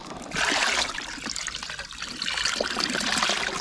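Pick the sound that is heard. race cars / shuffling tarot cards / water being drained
water being drained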